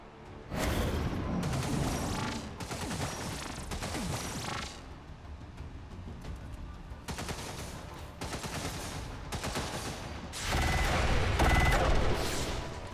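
Gunshots in Long War 2, the XCOM 2 mod, during a mission: several loud separate bursts of automatic fire with short pauses between them, the last burst the heaviest.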